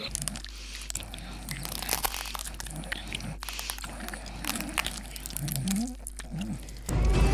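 Close, loud crunching and gnawing meant as human bones being chewed, repeated irregular crisp cracks and crackles over a low steady hum, ending in a louder burst of noise.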